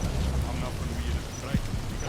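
Dense rainfall in the Metal Gear Solid V game hisses steadily and evenly, with a low rumbling underlayer and faint scattered tones mixed in.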